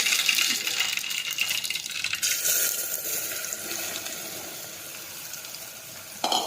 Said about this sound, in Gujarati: હવે આપણે તેમાં રાઈ નાખીશું, હિંગ નાખીશું